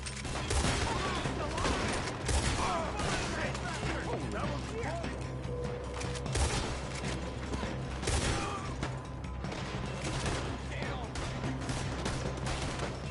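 A Red Dead Redemption 2 shootout: a dense, continuous stream of close gunshots with mechanical clatter and creaking, loud and sustained, with voices talking over it.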